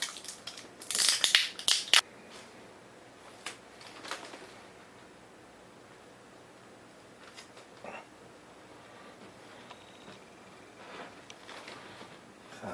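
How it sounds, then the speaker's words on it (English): Clear packing tape pulled off the roll in loud ripping bursts, then quieter pressing and handling sounds as it is applied to a fuel-mixing container. "I'm going to take some clear packing tape"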